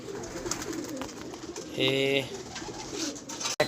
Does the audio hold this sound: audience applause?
no